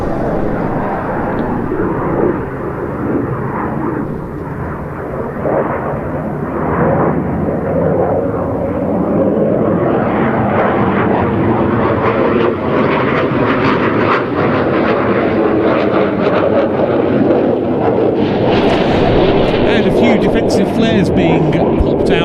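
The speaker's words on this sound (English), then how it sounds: "Flares being popped out by the Gripen as it enters that climb." Gripen fighter jet roaring overhead at a NATO Days air show as it enters a climb and pops flares, a loud sustained engine thunder with crackling bursts, while a commentator talks over it.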